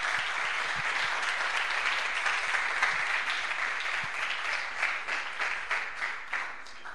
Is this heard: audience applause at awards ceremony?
yes